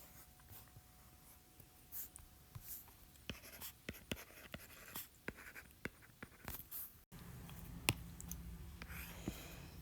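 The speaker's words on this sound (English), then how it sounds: "So I'm going to write my system that I'm going to be solving." Pen or marker writing out a system of algebra equations, heard as scratchy, irregular strokes with light taps throughout, close and fairly quiet, with a louder, fuller stretch of writing near the end and no talking.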